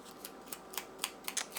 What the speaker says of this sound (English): I just went around with my scissors and made that little